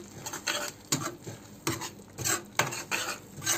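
Cauliflower and tomato curry gravy stirred in a pot, a run of separate scraping and clinking strokes from a spoon against the pan, close and fairly even in rhythm with no voices.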